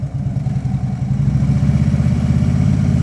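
A motorcycle engine idles with a low, throbbing pulse and then grows louder and steadier as the throttle is raised, close and loud.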